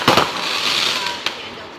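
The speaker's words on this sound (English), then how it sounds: "And you get to watch our Ford Lake fireworks." Fireworks exploding over Ford Lake, watched from a cottage deck, with a sharp burst at the start and a second crack later over a continuous crackling, hissing rumble, fairly loud and close.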